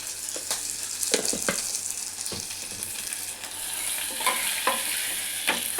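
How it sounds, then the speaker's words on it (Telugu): Turmeric tempering with dried red chillies and onion fries in a pan for a Telugu lentil and lemon rasam, a steady sizzle broken by several sharp stirring scrapes and clinks, close and without speech. "ఇది కొంచెం మంచిగా ఫ్రై కావాలి."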